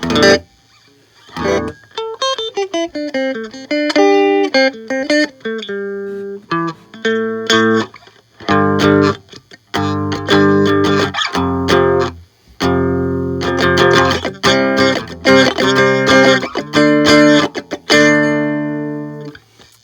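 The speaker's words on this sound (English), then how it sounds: "Pretty normal Strat sound." A Stratocaster electric guitar plays clean through an effects pedal into a Pignose Hog 20 amp, picking loud clear single notes and ringing chords in a continuous phrase with brief pauses, with no one talking.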